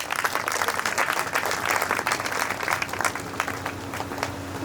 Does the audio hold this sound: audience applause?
yes